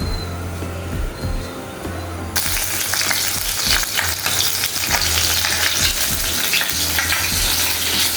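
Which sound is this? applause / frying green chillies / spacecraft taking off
frying green chillies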